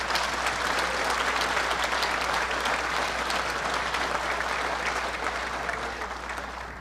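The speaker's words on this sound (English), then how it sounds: "let's give them a big round of applause right now" Sustained applause from a banquet audience at a sports hall of fame induction dinner in Prince Albert, a dense steady clapping that holds strong throughout and eases slightly near the end, with no talking.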